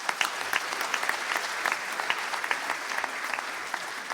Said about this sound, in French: Je pense qu'on peut l'applaudir encore.